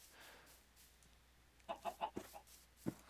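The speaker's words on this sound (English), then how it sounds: "There are a lot of chickens." Chickens clucking in the Minecraft video game, a quick burst of several soft clucks followed by one more a moment later, faint over a quiet background.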